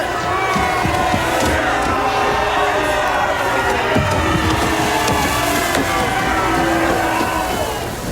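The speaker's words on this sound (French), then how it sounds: "Applaudissez-le." Crowd cheering and shouting at a staged wrestling match introduction, a loud continuous roar of many voices with yells rising above it throughout.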